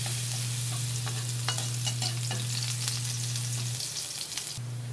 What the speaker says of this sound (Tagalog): Mainit ng mantika, ilagay ko ng bawang.